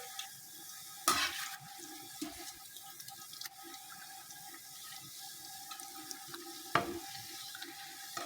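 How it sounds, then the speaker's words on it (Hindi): Besan fritters fry in a pan of oil with red chilies in the batter, a faint, steady bubbling sizzle broken by a couple of brief louder splashes or stirs. "ये फ्राई हो रहे हैं।"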